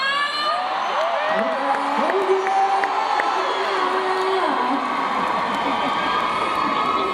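A large crowd of fans screams and cheers continuously at a Thai TV-channel fan event, with high-pitched shrieks and whoops rising over a dense roar of voices.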